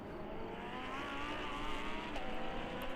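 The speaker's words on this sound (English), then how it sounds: "it is Adam Konopka driving the 77 Lamborghini of ARC Bratislava" Lamborghini race cars in an endurance race at the Red Bull Ring, a continuous engine drone with shifting pitch lines, fairly faint and distant, steady throughout without talk.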